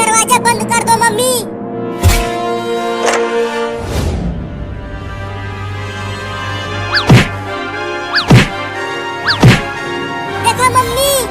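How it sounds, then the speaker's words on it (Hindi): A cat thumps hard against a closed door at home, several loud separate bangs spaced a second or more apart over a sustained musical background. "देखो मम्मी, वो कमीनी बिलार दरवाजे को कैसे मार रही है, लगता है जैसे तोड़ ही देगी"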